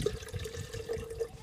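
Water from a 12-ounce bottle pours into a small stainless steel kettle, a soft steady trickle heard close and fairly quiet, with no talking.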